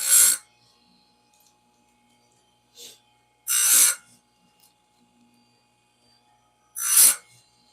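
Chainsaw chain teeth being sharpened with a hand file, heard as three short, bright rasping strokes spaced a few seconds apart, with quiet gaps between them.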